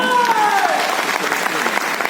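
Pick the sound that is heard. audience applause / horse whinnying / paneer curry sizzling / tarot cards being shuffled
audience applause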